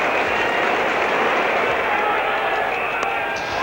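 Cricket crowd at the 1975 World Cup applauding West Indian captain Clive Lloyd nearing his century, a dense sustained roar of clapping and cheering with a commentator talking over it.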